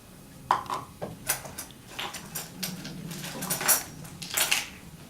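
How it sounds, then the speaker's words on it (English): Flour stirred together with other dry ingredients in a small bowl, with clinking and scraping of a utensil against the bowl, irregular and close, no talking. "I'm going to mix it in a separate smaller bowl with all the other dry ingredients"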